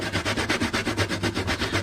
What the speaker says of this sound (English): I will grate the rest of it on the star grater